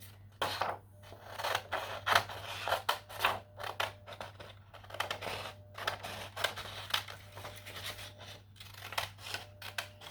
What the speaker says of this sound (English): I'm actually gonna go ahead and cut around the image.